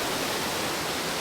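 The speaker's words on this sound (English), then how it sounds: "That's a pretty unique falls for sure." A waterfall near Dumaguete City, Negros Oriental, pours in a constant, broad rushing roar that holds steady and fills the whole moment with no voices.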